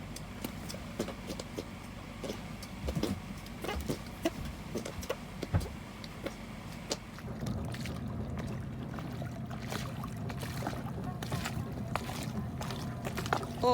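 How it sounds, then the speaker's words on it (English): A steady boat engine hum runs throughout with a low rumble, accompanied by repeated clicks and knocks; no one speaks. "So the engine is on. It's on and running."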